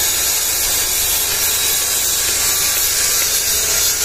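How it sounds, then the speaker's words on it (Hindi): A cutter machine slices through stone while Narmadeshwar shivlings are being made. It gives a loud, steady, hissing grind that runs without a break, and no separate hammer blows stand out. "पत्थर को सर्वप्रथम कटर मशीन से कटिंग किया जाता है, फिर उसे हथौड़े से तोड़ा जाता है।"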